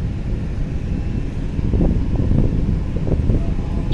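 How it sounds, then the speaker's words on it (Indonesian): Very strong night wind roars at Bakauheni harbour, a loud continuous low rumble with gusty swells and no clear pauses. "Untuk cuaca malam ini anginnya kencang banget, kencang banget"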